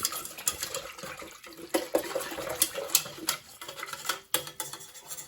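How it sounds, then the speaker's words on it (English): A whisk works through vegan queso ingredients, including miso paste, in a bowl: quick, uneven clinks and wet stirring strokes, close and fairly soft, with no talking. "So I'm going to whisk this all up."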